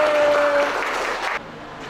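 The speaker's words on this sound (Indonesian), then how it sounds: "beri tepuk tangan lagi" Brief applause from a classroom audience, a short burst of clapping that fades quickly after about a second and a half, with no voices.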